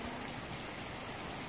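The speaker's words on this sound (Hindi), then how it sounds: "बारिश हो रही है" Soft, steady patter of rain falling in Islamabad, faint and even with no voices.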